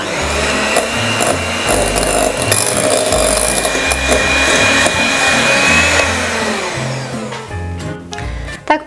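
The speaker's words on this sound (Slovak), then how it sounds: "Mixujeme ešte ďalšie 2 až 3 minúty." An electric mixer beats egg yolk foam with cold mascarpone, a loud continuous whirring and scraping in the bowl that winds down and stops near the end, no voices.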